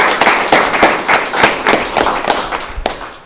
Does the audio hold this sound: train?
no